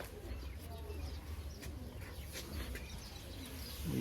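Pigeons kept by a Punjabi pigeon fancier give low, soft cooing in steady layered murmurs close by, with faint chirps mixed in over a continuous background hum.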